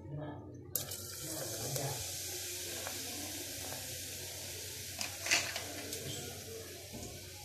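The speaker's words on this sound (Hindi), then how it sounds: "अब हम डालेंगे सॉफ्ट ड्रिंक।" Soft drink pours into a glass for a mint margarita, giving a continuous close hiss and splash of liquid with a fizzy edge that runs for several seconds.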